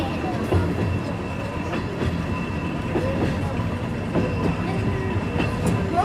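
A train runs along the rails with a steady rumble and a faint, irregular clickety-clack, heard up close from inside the moving carriage.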